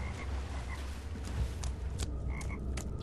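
A frog in the video game Two Worlds 2 croaks in a series of short, repeated calls over a steady low ambient game background.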